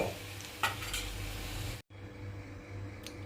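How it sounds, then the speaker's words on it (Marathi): Dal palak with boiled spinach bubbles in a hot tempering, giving a close, steady sizzle and simmer with a spoon scraping and stirring the pot, broken by a brief silent cut. "आता आपण ह्याच्यात दाल पालक घातलाय फोडणीत।"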